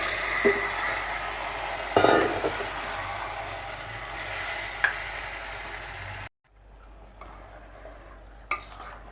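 Tomatoes tipped into frying ginger-garlic paste and stirred in a pan for a tomato curry: close, steady sizzling with utensil scraping, then a sudden drop to a quieter hiss near the end.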